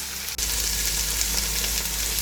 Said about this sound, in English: We now have to keep frying till the raw smell of the ginger garlic paste goes.